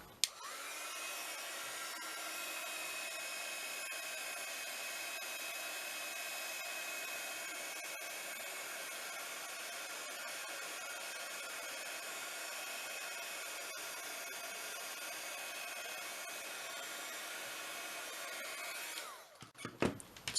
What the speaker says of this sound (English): I'm just going to turn that heat gun on.